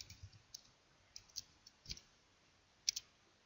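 Sparse, crisp computer mouse clicks, a handful of single and double taps spaced irregularly, close and fairly quiet with no talking.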